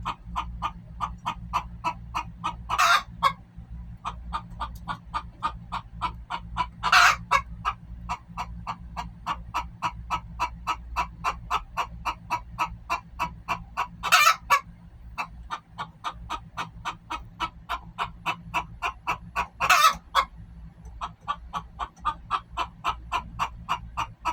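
Hens in a coop converted from an RV cluck steadily while laying eggs, a fast, even run of close clucks broken every few seconds by a louder, sharper squawk.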